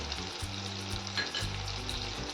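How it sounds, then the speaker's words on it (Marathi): Turmeric dropped into hot oil in a pan while cooking a Maharashtrian festival offering meal, giving a steady, close crackling sizzle with light stirring throughout. "आता आपण त्यात टाकणार आहोत हळद"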